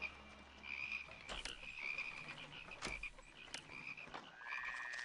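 Plague of frogs in the Pharaoh city-building game: a steady chorus of frog croaks at moderate level, with a few sharp clicks punctuating it and no talking.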